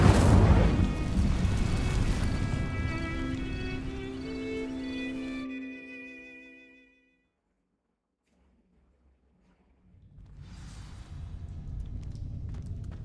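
Incendio fire spell cast in a Harry Potter video game, a loud fiery burst with a whooshing roar and ringing tonal shimmer that fades into silence before another rumble rises.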